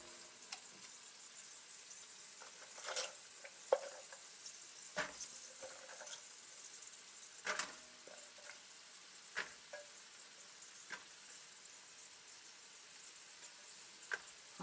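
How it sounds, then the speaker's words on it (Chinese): Diced chicken stir-fried with sugar snap peas in a wok, a quiet continuous sizzle punctuated by scattered sharp clinks and scrapes of the spatula tossing the pieces, close and without speech. "接下来我们继续翻炒， 让鸡丁跟甜豆可以充分混合在一起。"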